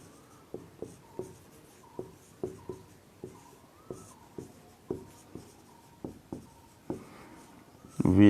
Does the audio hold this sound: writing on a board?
yes